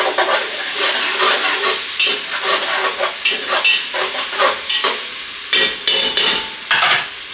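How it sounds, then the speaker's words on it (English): Onions seasoned with pepper sauté in a pan, with loud, choppy bursts of stirring and scraping over a sizzling fry and no voices. "saute those onions"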